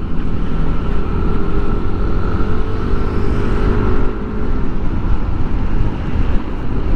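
A stock-exhaust Yamaha Aerox scooter engine hums steadily while riding from Taytay to Taguig, heard close and continuous under heavy wind rush for the whole stretch.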